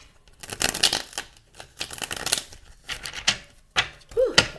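A deck of tarot cards is shuffled in a series of crisp riffling bursts, several quick flurries close by with short pauses between them.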